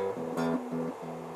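An electric guitar in standard tuning plays a short, low riff, a few sustained notes with brief gaps, fairly quiet and close.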